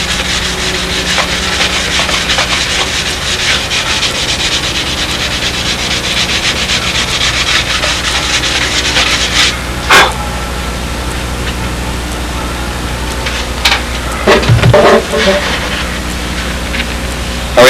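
Sanding a fillet smooth with a radius block, a continuous close rubbing hiss that holds steady throughout, with a few sharp knocks near the end.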